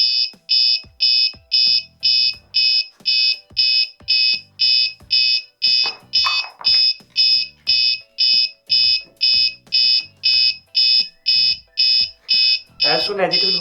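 A homemade alcohol, smoke and perfume detector alarm beeps in a steady, rapid series of loud, high-pitched pulses, continuing without pause while a voice speaks faintly underneath.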